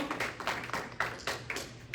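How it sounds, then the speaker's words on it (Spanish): A small church congregation at Iglesia Oasis in Hesperia claps for the Lord, a few distinct pulses of hand-clapping that come in roughly rhythmic bursts, moderately close but not loud. "Denle una ofrenda de aplauso al Señor"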